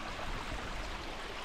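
Faint steady rush of small waterfalls and a trickle in Arizona's Superstition Mountains, a soft continuous wash of falling water heard from a distance with no voices.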